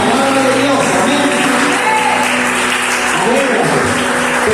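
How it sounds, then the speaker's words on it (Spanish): A church congregation at a Spanish-language worship service gives loud, sustained applause that fills the room without pause, with voices mixed in. "Dale un fuerte aplauso al Señor."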